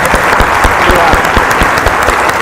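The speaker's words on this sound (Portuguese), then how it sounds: "Senhoras e senhores, uma salva de palmas para Thiago Mitrô." Live studio audience of a TV talk program giving a loud round of applause for the guest, dense continuous clapping with some crowd noise throughout a short burst.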